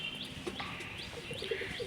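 Pigeons in a full loft give soft, low coos mixed with light chirps and wavering calls, moderately close and fairly quiet over a faint background murmur, with no speech.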